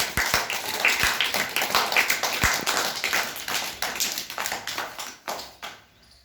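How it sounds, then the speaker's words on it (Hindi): A class of young children claps loudly in a school classroom, a dense run of sharp overlapping claps with a few stronger slaps standing out, fading toward the end. "जोर से ताली बजाओ"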